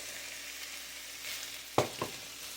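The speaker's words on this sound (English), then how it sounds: "I'm going to add my rice. Leftover basmati rice." Leftover basmati rice sizzles in a frying pan with a soft steady crackle, broken near the end by two sharp knocks of a utensil on the pan.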